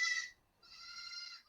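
A two-day-old baby goat, one of four premature kids kept in a house, lets out two loud, close bleats with a short gap between them.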